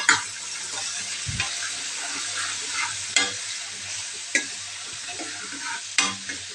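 Eggplant sizzles and crackles steadily in a hot pan, with occasional scrapes and stirring knocks from a spoon.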